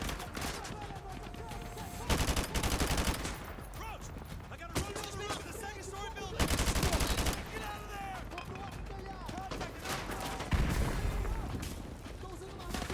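AK rifle gunfire in Call of Duty Modern Warfare 2 Remastered on PS4 Pro: dense bursts of automatic fire and booming shots over several seconds, loud and continuous, with someone talking over the action.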